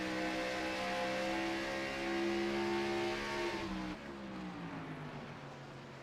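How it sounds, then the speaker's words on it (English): Race car engine in a NASCAR-style racing video game at Phoenix, a steady loud drone that holds pitch for about four seconds, then drops as the throttle is lifted and the note falls away. "You can hear the engine noise when he gets back out of the gas"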